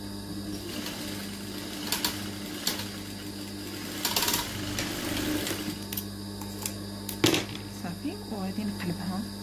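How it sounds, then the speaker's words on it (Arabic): A sewing machine stitches a sleeve in short, close mechanical runs separated by pauses. A faint voice can be heard in the background. "غادي نزيد لها واحد الخياطة أخرى"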